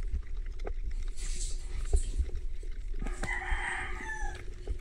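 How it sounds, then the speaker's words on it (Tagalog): Roosters crowing from shore during night spearfishing in the Philippines, one long crow clearly rising over steady boat and water noise, with other faint calls in the background. "Sunod-sunod na naman ang manok."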